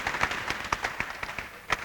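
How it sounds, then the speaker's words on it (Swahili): A church congregation applauds with loose, rhythmic clapping at a steady beat, close and fairly brief. "Applaudissez pour le Seigneur."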